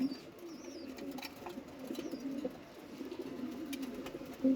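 Pigeons in a tournament loft, including a khaki cock bird, give soft low cooing in a steady murmuring rhythm throughout, with faint chirps from other birds in the background.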